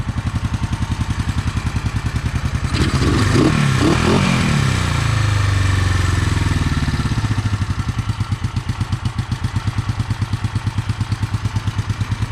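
A Honda CB450 motorcycle engine running close by with a rapid, even idle pulse, briefly revved to a louder roar before settling back to a steady idle.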